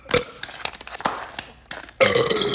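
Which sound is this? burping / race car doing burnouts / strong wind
burping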